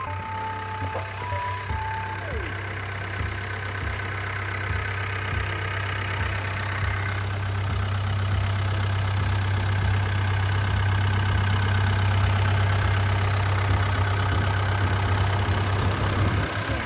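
The four-cylinder turbo diesel engine of a Komatsu WA100-7 wheel loader idles steadily up close, a deep constant rumble with a faint rhythmic knock running underneath.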